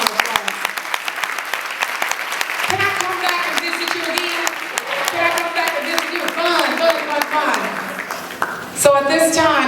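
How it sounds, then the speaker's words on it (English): Conference audience applauding after a talk on non-verbal communication, with sustained, fairly loud clapping and a speaker's voice talking over it throughout. "Give yourself a round of applause."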